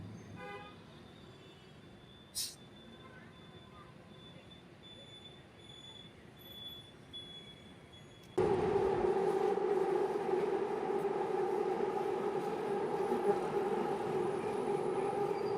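Quiet traffic ambience near the Vaidehi signal in Whitefield, Bangalore, with a brief sharp tone, then a loud droning rumble starts abruptly and continues as a metro train runs close by.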